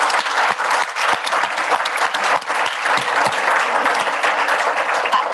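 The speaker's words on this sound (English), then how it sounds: "Can we please give a round of applause to this wonderful panel?" Sustained audience applause for a panel at a storytelling event on African women and development, a dense, even wash of many hands clapping close and loud with no pauses throughout.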